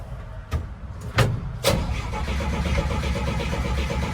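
A 1968 Dodge car engine starting up close: a few short cranking bursts, then the motor catches and settles into a steady, loud idle rumble.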